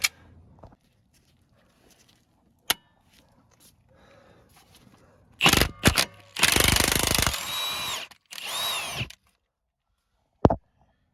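A power tool removes a strut nut on a Buick Enclave: a few short bursts of whirring and hammering, loud and close, separated by pauses and faint clinks of handling.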